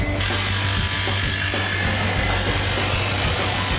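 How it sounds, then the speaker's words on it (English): A steady, high-pitched motorized whir of a power drill driving in a screw runs throughout, loud and close with no pauses. "Out goes the drill, in goes the screwdriver."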